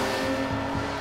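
A BMW M4 CSL powers out of the last corner on a race circuit, its engine note droning steadily and loudly with small shifts in pitch as it accelerates, with no talk over it.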